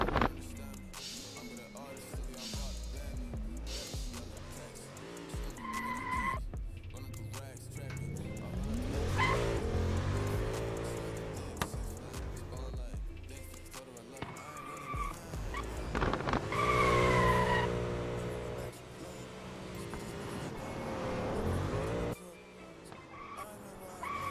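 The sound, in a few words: BMW E30 car driving, tires skidding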